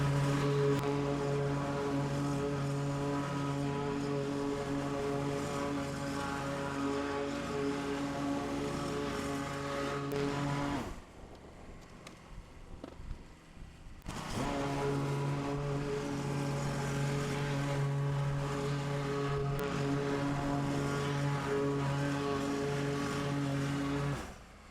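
A small lawn mower set at its lowest height cuts dead grass low, its engine droning steadily and loudly up close, dropping away for a few seconds near the middle before surging back.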